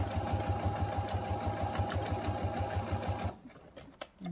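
Sewing machine stitching a leather key fob of pink and black layers along a seam, running in a fast steady rhythm close up for over three seconds, then stopping.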